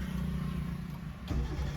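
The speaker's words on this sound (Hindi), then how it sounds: "पूरा क्लच दबा के इंजन स्टार्ट करो" A car engine turning over and catching with the clutch fully pressed during a beginner driving lesson, a steady low idle rumble with a brief surge toward the end, close and continuous.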